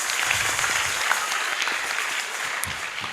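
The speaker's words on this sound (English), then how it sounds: "Let's give them a big round of applause." Audience applause at a business competition grand finale, steady, dense clapping filling the whole short stretch at a constant level without a break.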